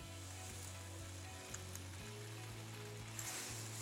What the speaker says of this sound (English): We're going to let that sizzle.